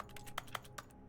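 Keyboard clicking from the video game The Stanley Parable, a quick run of sharp clacks of uneven spacing, a few louder keystrokes standing out, close and fairly quiet with no talk over it.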